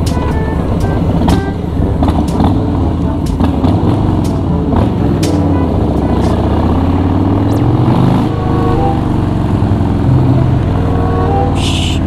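A motorcycle is ridden through traffic with a steady engine drone that rises and falls with throttle changes. Wind buffets the microphone and passing vehicles add noise. The whole ride sounds loud and close.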